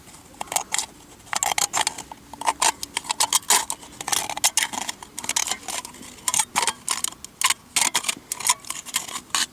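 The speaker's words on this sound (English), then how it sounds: "Cut straight through the remaining roll of can wall." Scissors snipping through the thin aluminium wall of a drink can, a rapid series of sharp metallic clicks and crinkles in irregular bursts, close and fairly loud with no talking.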